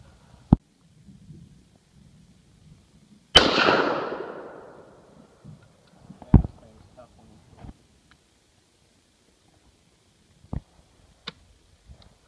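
Distant rifle shots at outdoor target practice with an AKM or Saiga, a single sharp report ringing out, a few fainter isolated cracks spaced seconds apart, and quiet talk in between.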